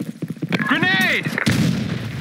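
Gunfire and explosive blasts in a first-person shooter video game, a rapid series of sharp reports, a whistling projectile tone, then a heavy boom trailing into rumbling noise.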